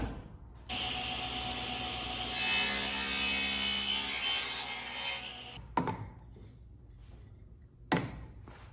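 A power saw, likely a table saw with its fence set over, cuts the second side of a mortise joint in a wood workpiece, a steady loud whining cut with a brighter surge midway, then stopping, followed by a couple of brief clunks.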